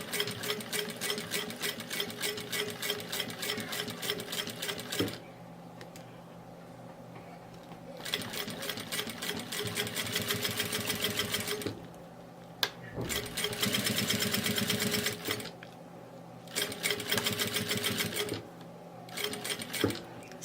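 A sewing machine stitches slowly over the zipper of a felt bag in steady whirring bursts, stopping and restarting several times.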